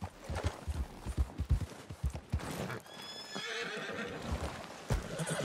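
A horse in the video game Red Dead Redemption 2 clip-clops through shallow icy pond water, then lets out a long, loud whinnying neigh, with the hooves and splashing heard up close.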